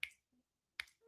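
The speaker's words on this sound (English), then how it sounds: "snap your fingers" Two crisp finger snaps, close and fairly quiet, separated by a short gap with near silence between them and no talk.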